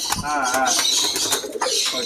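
Racing pigeons at a large bird farm in Madurai coo and call close by, with soft wing flutters mixed into busy bird chatter and a voice talking faintly underneath.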